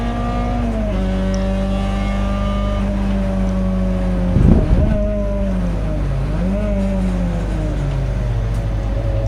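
Peugeot 205 and other touring race cars at Donington Park in the wet, a sustained loud engine drone with shifting pitch as a train of cars passes close, a brief louder surge midway.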